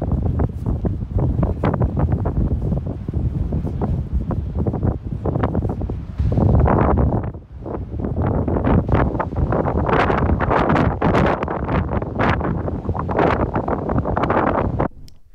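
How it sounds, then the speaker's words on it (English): Strong gale wind on the Kent coast at Herne Bay buffets the microphone in loud, continuous roaring gusts, with a brief lull midway and no voices. "It was freezing cold and blowing a gale."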